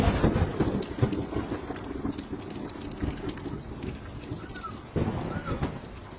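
A heavy storm with steady rain hissing and rumbling thunder, loud at the start and swelling again near the end.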